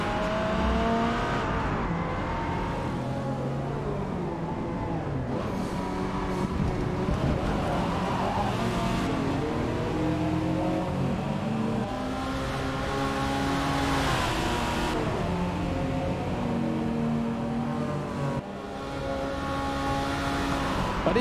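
Race car engines in the video game Forza Motorsport drone continuously for about twenty seconds, with revving and shifting engine tones that rise and fall without pause.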